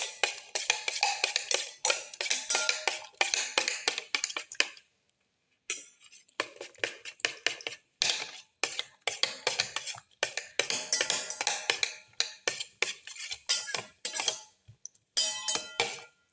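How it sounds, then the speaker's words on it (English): Garlic and omelette ingredients are mixed and crushed in a bowl, with close, repeated scraping and clinking strokes of a utensil against the dish in quick rhythmic bursts and a few short pauses. "Thoroughly mix and crush all the ingredients together."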